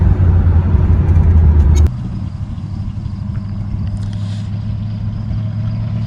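A 1979 Chevy Camaro with a 307 V8 and four-speed T10 gearbox, a long-stored field find, pulls hard through the gears, a loud, close engine drone that drops in pitch at a shift and then steadies.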